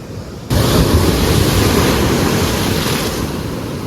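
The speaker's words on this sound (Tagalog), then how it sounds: "Pakinggan nyo. Lakas ng alon." Strong ocean waves crash onto Lio Beach in El Nido, a dense, continuous roar of surf close by with heavy wind rumble on the microphone and no voices.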